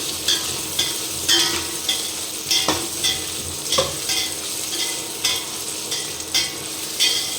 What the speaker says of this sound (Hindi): इन सब्जियों को मैंने भून लिया है